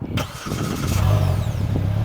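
A Polaris Slingshot R starts with a push of a button, a quick crank catching into a steady mid-pitched engine rumble that settles toward idle, close and fairly loud with no talk.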